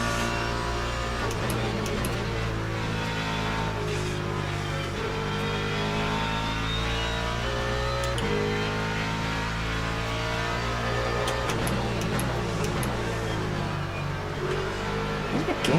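A Cadillac race car passes in a racing video game at Sebring, its engine a loud, sustained droning whine with shifting revs that runs through the whole stretch without a break.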